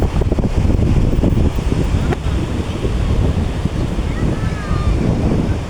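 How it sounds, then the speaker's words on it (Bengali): Sea surf rushing up the beach at Digha near Shankarpur, a steady broadband roar with wind buffeting the microphone throughout and a voice briefly in the mix. "রনি, জল বাড়ছে, চলে আয়।"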